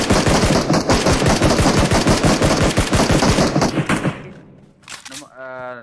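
Rapid automatic gunfire from the battle royale game PUBG Mobile, loud and dense for about four seconds, with bursts crowding together, then cutting off into a short pause and a final faint sound.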